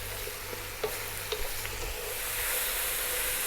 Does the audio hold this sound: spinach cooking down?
yes